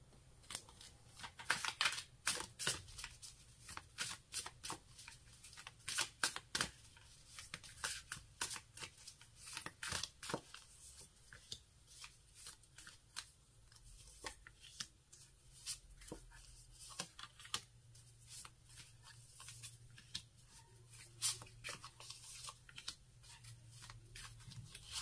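Tarot cards are shuffled by hand for a reading, a quiet close series of soft riffling flicks and slaps in irregular bursts over a hushed room.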